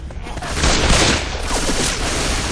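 Rapid gunfire in the Left 4 GoldenEye game, a dense burst of shots filling the whole stretch, loud and close, with a faint voice underneath.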